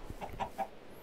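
Chickens clucking in Minecraft, three short clucks spaced evenly over about a second, fairly close and moderately loud against a quiet background, no talking.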